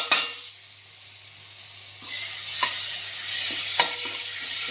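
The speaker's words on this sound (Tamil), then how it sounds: "இப்போ இந்த விழுதை இதில் போட்டு வதக்கிடலாம்." A paste of ground green chili, mint, coriander, ginger and garlic sizzles in a hot pan. A spoon stirs it with repeated metallic scrapes and clinks, with no talking.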